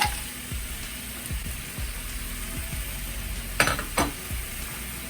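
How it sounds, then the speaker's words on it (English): Frozen shrimp tossed into stir-fry noodles in a hot pan, giving a steady close sizzle with repeated low thuds and scrapes of stirring and a couple of sharper clatters near the end, no voices. "I'm gonna just throw my shrimp in here"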